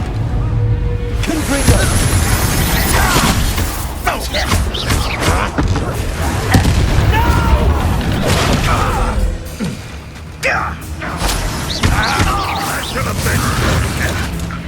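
Repeated Confringo blasting spell explosions during a fight in the video game Hogwarts Legacy, with dense booming bursts and mechanical clatter over a loud game soundtrack, and character voices speaking at times.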